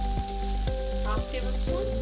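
Okra frying for bhindi masala sizzles steadily in hot oil as salt and spices go in, with a few soft stirring knocks and a faint steady hum underneath.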